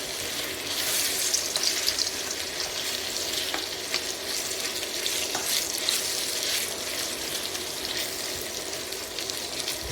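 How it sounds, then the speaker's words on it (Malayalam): Marinated chili chicken fries in hot oil, a steady close sizzle and crackle that runs continuously for the whole stretch with a few sharper pops and no talking. "ഇനിയിപ്പോൾ നമ്മളത് ഒന്ന് എണ്ണയിൽ പൊരിച്ചെടുക്കാം."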